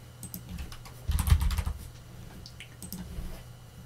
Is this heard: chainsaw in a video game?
no